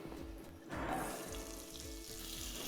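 Chopped cabbage tipped into hot spices and turmeric frying in a pan, a steady broad sizzle that swells briefly as the cabbage lands, quiet and close, with no talking.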